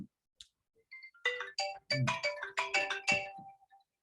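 Incoming phone call ringtone: a bright, melodic electronic chime pattern of quick rising notes, playing alone and fairly clearly for a few seconds.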